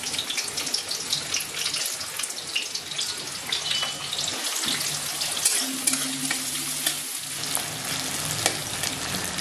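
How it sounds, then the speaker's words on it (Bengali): Chopped onions sizzle in hot oil in a home kitchen pan, a dense continuous frying hiss with occasional stirring, loud and close with no talk. "পেঁয়াজ কুচিটা একটু ভাজবো"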